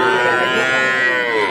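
A young Indian-breed heifer calf gives one long, loud, close moo at a rural livestock market, the call sustained and slowly falling in pitch.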